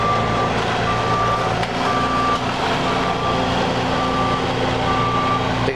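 A truck backing up during post-hurricane tree debris pickup on a residential street gives off steady, evenly spaced reversing beeps over a loud, constant engine rumble, with no talk.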